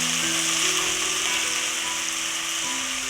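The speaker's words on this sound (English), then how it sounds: "Next I'll add in the chopped ingredients, the aromatics. I'll give it a stir, cook it for a minute or 2." Chopped aromatics sizzling in hot oil in a pan for a coconut fish curry, a loud, steady frying hiss heard close up with faint stirring underneath.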